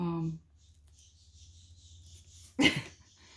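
A terrier gives a single short, loud bark near the end, after a brief voice at the start and a quiet stretch of low background hum.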